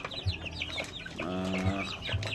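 Native chickens on a Philippine farm cluck close by in short repeated bursts, with a longer drawn-out call in the middle and steady outdoor background noise.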